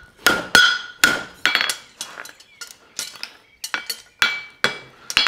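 Hammer blows on a horseshoe against an anvil while forging a reverse shoe, about a dozen sharp ringing metallic strikes in an uneven rhythm, with short pauses and lighter taps between them.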